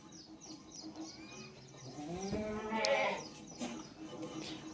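Beetal goats bleat inside a goat-rearing shed, with a few soft, wavering calls rising and falling over a quiet, noisy background. A faint bird chirp can be heard now and then.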